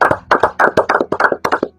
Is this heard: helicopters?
no